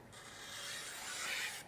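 A freshly sharpened kitchen knife slices through a sheet of paper, giving a steady, close, soft rasping hiss that lasts under two seconds, with no talking.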